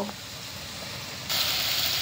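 A spice paste of chilli powder, turmeric and coriander powder hits well-fried onions in a pan for raw-pea ghugni. A steady soft sizzle suddenly swells into a louder, brighter hiss that continues on, close by.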